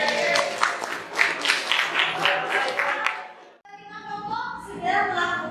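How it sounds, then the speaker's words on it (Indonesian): Brief burst of classroom applause after a student presentation, many hands clapping for about three seconds before it stops and a teacher starts speaking. "Ayo semua tepuk tangan"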